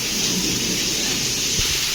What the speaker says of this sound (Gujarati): ધોમ વરસાદ ચાલુ છે